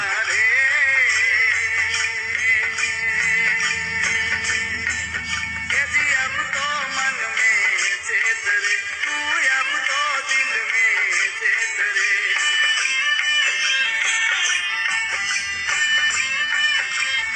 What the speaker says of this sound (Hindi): कबीर भजन है।